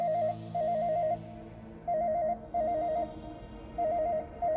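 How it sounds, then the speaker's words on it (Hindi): A telephone rings with a warbling electronic tone in repeated bursts separated by short gaps, loud and close, with no voices over it, in a Hindi horror drama scene. "किसका फोन आ गया अब?"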